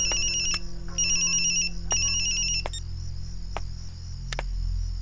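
A mobile phone rings in a scene from a Bhojpuri film. The electronic ringtone sounds in repeated bright bursts, then cuts off, leaving a steady low hum with a few faint clicks.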